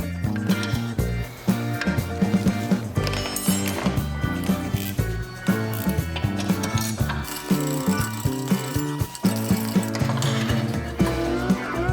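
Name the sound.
ratchet removing caliper bracket bolts on a Honda Accord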